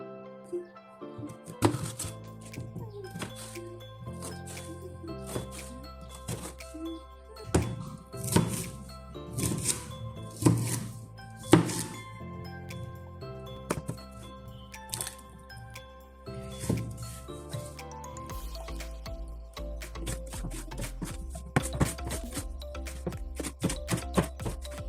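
A knife chops peeled raw plantain into small pieces on a board, with rapid, crisp, irregular cuts at close range, growing into fast bursts of chopping toward the end.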